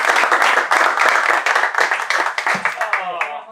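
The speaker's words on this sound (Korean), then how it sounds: "오늘 박수 치고 끝냅시다" A football team in a dressing room applauds together at the end of a post-match talk, a brief burst of close, brisk clapping that thins out into scattered claps with voices mixed in.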